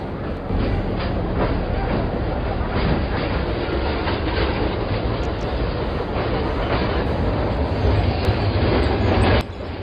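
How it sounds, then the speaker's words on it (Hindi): A train rumbles and clatters at a railway platform, a loud continuous roar with rhythmic wheel clacks close by, ending abruptly near the end. "रोड़ी से कराची जाने के लिए ट्रेन प्लेटफॉर्म नंबर 2 से तैयार है।"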